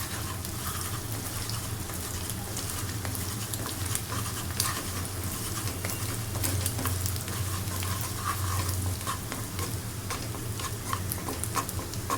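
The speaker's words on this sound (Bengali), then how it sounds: "ডিমটাকে এখন খুব ঝুড়ি ঝুড়ি করে ভেজে নিব" Beaten, lightly salted egg fries and scrambles in oil, a steady close sizzle with brisk pattering and scraping from the stirring, and no talk.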